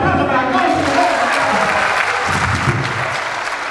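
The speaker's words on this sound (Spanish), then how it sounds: "Un fuerte aplauso para Antón" Audience applause at a children's clown show in Chapela, a dense steady burst of clapping from a crowd filling the room, loud and close, with a few voices mixed in under it.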